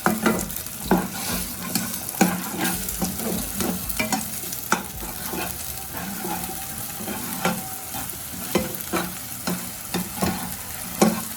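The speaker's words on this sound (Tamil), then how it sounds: "நல்லா ஸ்க்ராம்பிள் பண்ணிக்கலாம்" Eggs being scrambled in a hot pan for egg fried rice crackle and sizzle steadily while a utensil scrapes and taps the pan in an irregular rhythm, close up and clear, with no voices.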